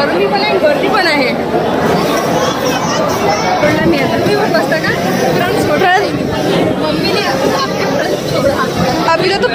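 A dense crowd chatters loudly while queueing for a meal, overlapping voices forming a continuous close babble throughout with no single voice standing out.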